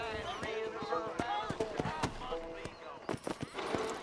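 Horse hooves clip-clop in an irregular walking rhythm in the Red Dead Redemption western video game, close and moderately loud, while a voice talks over them.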